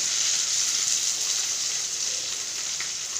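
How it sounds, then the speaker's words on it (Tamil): Steady, crackling sizzle of mustard seeds spluttering in hot oil, a dense hiss with a few faint pops, continuous and close. "கடுகு வெடிச்சிட்டு"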